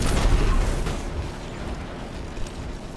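Rocket launcher explosions in Destiny 2, a heavy booming blast at the start that rumbles and fades into a low sustained roar, with a smaller pop near the end.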